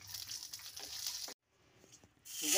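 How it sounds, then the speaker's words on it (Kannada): Raisins and cashews fry in ghee with a soft, close sizzle and light crackle, which breaks off into near silence and then returns as a brighter hiss. "ದ್ರಾಕ್ಷಿ ಗೋಡಂಬಿ ಹಾಕ್ಕೊಂಡು ತುಪ್ಪದಲ್ಲಿ ಅದನ್ನು ಕರ್ಕೋಬೇಕು."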